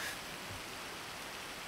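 Steady rain begins falling in a video game, a dense, even hiss of drops spread across the whole clip at constant loudness, with no voices over it.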